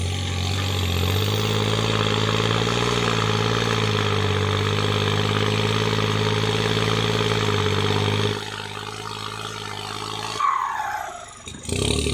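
A heavy diesel engine of a turbocharged Kubota L4018 tractor roars steadily at high revs for several seconds, then drops off and sputters near the end.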